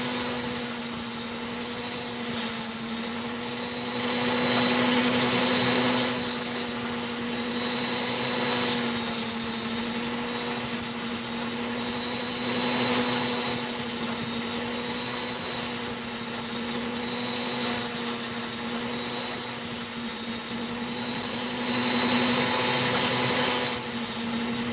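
Opal stone being cut and ground on a lapidary wheel: a steady machine whine runs throughout, with repeated bursts of high scraping grinding as the stone is pressed against it, about ten passes with no talking.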